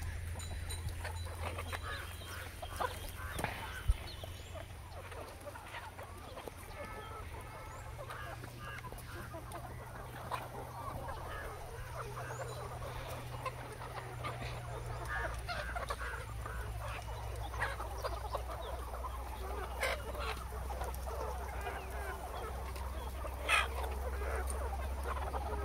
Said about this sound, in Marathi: सकाळी सकाळी किती मस्त कोंबड्या फिरत आहेत